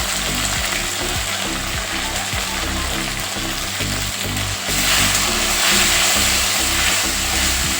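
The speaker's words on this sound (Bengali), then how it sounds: "এবার সমস্ত মশলাটাকে আমি ভালো করে কষিয়ে নিচ্ছি" Salt, turmeric and chili powder fry with pointed gourd (potol) and ginger paste in a pan, making a loud, continuous close sizzle with scraping stir strokes, and the sizzle swells a little toward the end.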